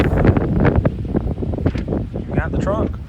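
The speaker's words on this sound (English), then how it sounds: "It's a little windy right now." Gusty wind buffeting the microphone beside a 2015 Subaru Outback, a rough blustery roar with a person talking underneath it.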